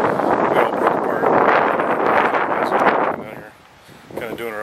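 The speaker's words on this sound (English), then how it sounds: "Sorry, it's windy. So if you guys are hearing that, I'm sorry." Heavy wind buffets the microphone with loud, rumbling gusts, then briefly drops away before picking up again.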